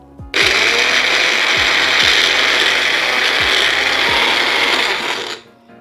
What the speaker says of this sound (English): now I'm going to puree this